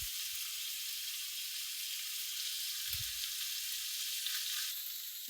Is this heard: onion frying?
yes